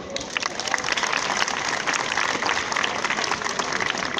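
An audience at a fashion show in France applauds in a dense, steady wash of clapping that stays loud and close throughout.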